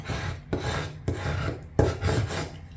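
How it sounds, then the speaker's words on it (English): Transfer tape is burnished onto cardstock in close, raspy rubbing strokes, about four to five sharp scraping passes, each starting with a brief attack before fading out. "Burnish it from both sides."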